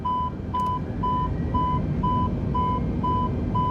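A steady electronic alarm beep in a flight simulator game repeats about twice a second, evenly spaced and prominent over a low, constant rumble.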